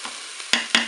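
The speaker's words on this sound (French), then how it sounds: "On mélange bien sûr." Rice stirred in a Cookeo cooker pot, a soft hiss of sizzling under two sharp scraping spoon strokes close by, with no voices.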